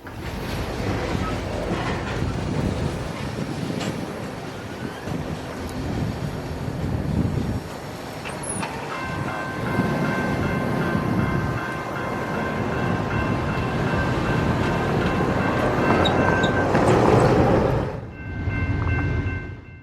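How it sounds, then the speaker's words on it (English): A southbound grain train rolls slowly past a road crossing and comes to a stop, a loud, steady rumble of wagons with wind buffeting the microphone, a sustained tonal whine partway through and a quieter tail once the cars halt. "this southbound grain train just barely fit past the crossing here and came to a stop"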